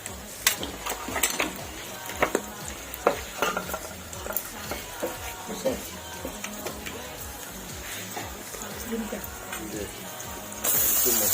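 Ginger-garlic spice paste frying in a pan on a stove, a steady sizzle with repeated scraping stirs of a utensil against the metal, close up and continuous, growing briefly louder near the end.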